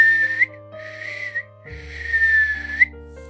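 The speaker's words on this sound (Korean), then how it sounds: "우리들의 입술에서는 저절로 휘파람이 새어나온다." A clear, sustained tune whistled by a person, long held notes with short breaths between phrases, close and fairly loud over a soft background tone.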